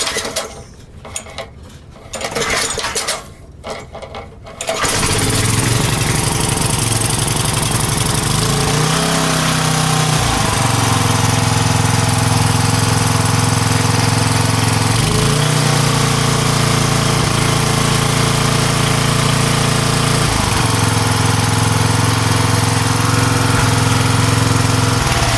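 A heavy-duty Craftsman 5HP tiller engine, repaired after a stuck throttle linkage, sputters briefly, then catches and runs steadily and loudly at close range, its engine note dipping a few times as the throttle changes.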